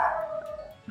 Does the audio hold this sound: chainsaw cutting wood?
no